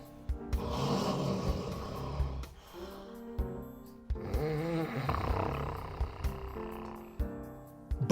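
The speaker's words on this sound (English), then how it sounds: "Humankind tried many methods to resolve snoring problem" A person snores in loud, rough drawn-out breaths, about three long snores with brief pauses between them, close and alone with no talk.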